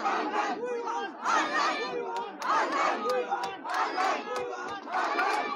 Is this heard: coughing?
no